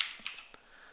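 A few quick, light keystrokes on a computer keyboard while an IP address is entered, close and soft with a faint hiss underneath.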